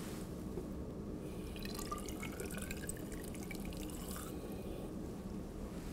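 Water is poured into a laboratory beaker, about 100 millilitres for a heat and temperature chemistry experiment, a faint, quiet trickling fill lasting a few seconds.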